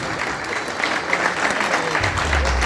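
Audience at a corporate leadership program in a hotel hall claps in dense, loud applause that holds steady throughout, with a low rumble of crowd noise joining near the end.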